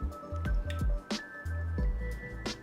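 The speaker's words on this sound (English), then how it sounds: "we're just gonna pour that right into the waffle maker" Thick cheese waffle batter pours and squishes wetly into a waffle maker in a few soft, sticky bursts, with light clinks of utensils in between.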